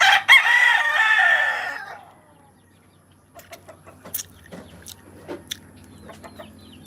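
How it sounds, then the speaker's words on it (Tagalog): Pet rooster crowing loudly and close at the start, followed by quieter scattered clucks and chicken sounds against a low background hum. "Dami niya ang mga alagang manok."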